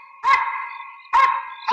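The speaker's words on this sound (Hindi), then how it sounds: "सर, एक कुत्ते पुलिस वालों को देख के क्यों भौंकते हैं?" A dog barking at police officers at night in a 90s Hindi action film, two sharp barks followed by the start of a third, heard clearly over a steady background tone.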